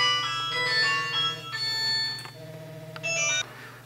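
A phone rings with an incoming call in a workshop during a plasma TV repair, sounding as a steady electronic melodic tone over a low hum, continuous and fairly close, with no talking.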